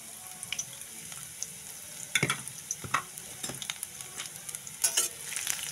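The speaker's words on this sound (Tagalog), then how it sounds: "Haluin lang po natin ang ating sibuyas at bawang." Onion and garlic sauté in hot oil for ampalaya ginisa, a steady soft sizzle with scattered louder scrapes and clacks of stirring, close by and without talk.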